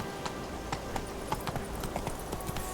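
Hooves of the horse Roach in The Witcher 3, a steady rhythmic clip-clop of galloping over a continuous background bed, moderately loud and close.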